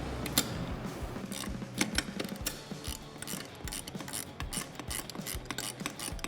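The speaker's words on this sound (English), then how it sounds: "Ratchet it down." A hand ratchet wrench with a 10mm socket tightens a bolt while fitting a cold air intake on a Silverado V8, giving quick repeated clicking strokes up close, soft and alone.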